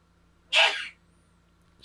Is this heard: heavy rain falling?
no